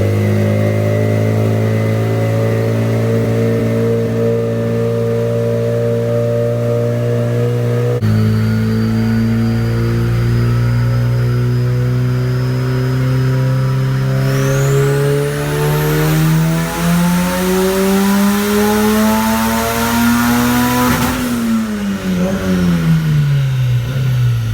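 Car with a tuned B20 engine held on a dyno pull, revving loudly and steadily from low to high through a long rising sweep, then dropping off sharply at the end, close and alone.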